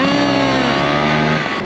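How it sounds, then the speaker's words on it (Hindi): A Vespa scooter engine on an Adelaide city street, loud and close with a buzzing whine that bends in pitch as it passes, fading slightly toward the end. "O Vespa scooter, Vespa,"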